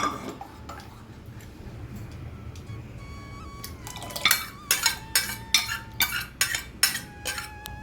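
A spoon stirs a pot of dal, clinking and scraping against the metal in a steady rhythm of repeated strokes after a few quiet seconds of kitchen noise.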